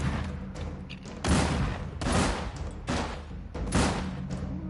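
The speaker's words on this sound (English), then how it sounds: "Alright, now we got a pistol." Several pistol shots in a fan-made The Last of Us video game, sharp loud reports spaced roughly a second apart over a steady background rumble.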